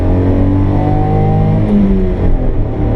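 A 1991 Honda Acty Street kei mini van with air conditioning, its small engine revving and accelerating, a loud close buzzing drone that rises steadily in pitch throughout.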